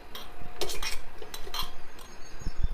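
Spoon clinking against a pan as ghee is added while making upma, a few close metallic taps and scrapes in quick succession, with no voices.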